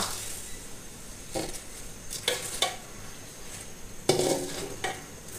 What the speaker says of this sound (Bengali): এখন দিয়ে দিচ্ছি আগে থেকে ধুয়ে জড়িয়ে রাখা 3 পট সেদ্ধ চাল